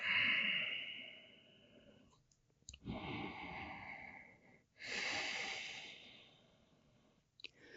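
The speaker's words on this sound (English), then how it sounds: "Deep, deep breath." Deep, slow breaths drawn during a yoga class, a long exhale, a pause, then another long breath, close and fairly soft with no talking.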